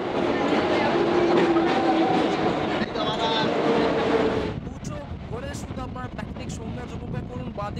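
A Howrah–Tarakeswar local train pulls into a platform, its loud rolling rumble and clatter easing off midway into quieter clicks and creaks, with people talking over it.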